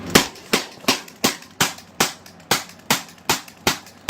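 A Crosman 3357 paintball revolver fires a steady string of about twelve sharp, evenly spaced pops, each crisp and close with a quick decay, and no voices between shots.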